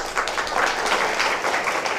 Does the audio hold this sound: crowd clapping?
yes